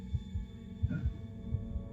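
A pounding heartbeat from the horror game Evil Inside throbs in deep, low thuds, paired beats repeating steadily over a faint hum, with no voices.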